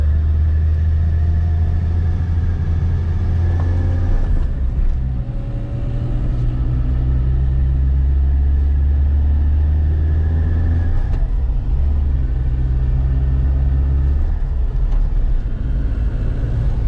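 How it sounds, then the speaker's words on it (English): BMW E30 fitted with a 5.3 LS V8 idles with slipping belts: a loud, steady low engine rumble with a faint squeal that comes and goes, and the idle note dips and rises a few times. "you can hear the belts kind of go on and off."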